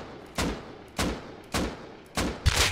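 Gunfire in the survival game Rust: four loud, evenly spaced shots about half a second apart, each with a short echoing tail, the last one doubled, with no talking.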